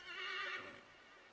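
A horse in the video game Assassin's Creed 3 gives a loud, close whinny with a wavering, falling pitch lasting about a second, then fades, with a faint hint of hoof sounds.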